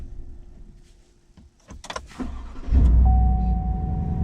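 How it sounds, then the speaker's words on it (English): A new Chevy Silverado pickup truck shut off and then started again: quiet idle and a few clicks and clunks, then the engine cranks and catches into a loud, steady low rumble with a faint whine, no talk. "So then if I turn it off, shut my truck off,"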